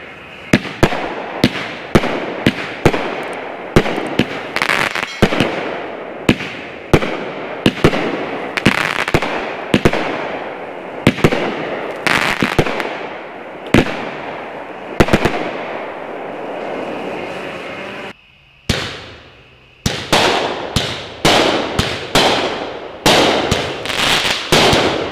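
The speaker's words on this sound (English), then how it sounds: "let's take Neutron Star out back, fire it up, see how it looks" A Dominator Neutron Star 15-shot 200g firework cake fires outdoors as a loud string of sharp, booming launches and bursts in quick succession, with one short gap partway through before the volley resumes.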